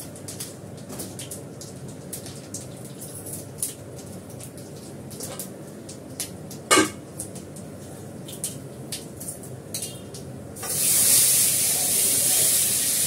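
Five-spice tempering hitting hot oil in a home kitchen, a soft crackly sizzle with scattered pops and clinks at first, then a louder steady hiss of frying near the end.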